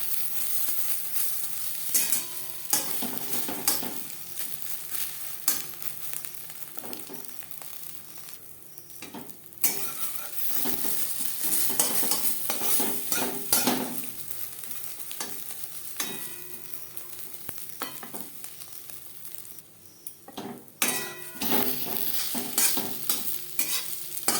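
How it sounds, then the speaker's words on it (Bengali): Egg omelette fries in hot oil over a medium flame, giving a steady close sizzle broken by repeated scraping and stirring strokes of a spatula across the pan throughout, with no talking. "অমলেট তৈরি করব মিডিয়াম ফ্লেমে"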